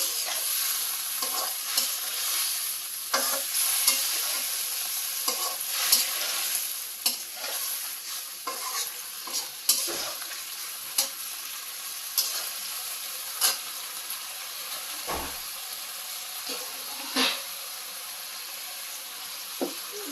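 Boiled potatoes being sautéed in a hot pan: a steady close sizzle runs throughout, with irregular stirring scrapes and knocks of the utensil against the pan.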